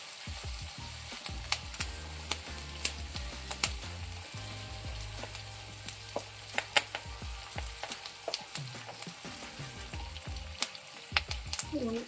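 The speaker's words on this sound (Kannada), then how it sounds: "ಈರುಳ್ಳಿನ ಚೆನ್ನಾಗಿ ಫ್ರೈ ಮಾಡ್ಕೊಳ್ಳಿ." Chopped onions sizzling and frying in oil in a pan for a bitter gourd curry, steady crackle with occasional stirring clinks and scrapes.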